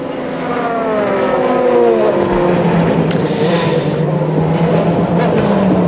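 A Ferrari race car roars past at the Spa-Francorchamps 24 Hours in 2006, a loud sustained engine note whose pitch sweeps downward as it passes, heard from trackside alongside faint background commentary.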